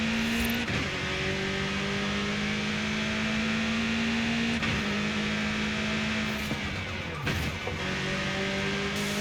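The race-tuned engine of a BMW M8 GTE roars steadily at high revs while driven hard in Forza Horizon 5, a loud sustained drone with brief dips at gear shifts and cornering; no talking.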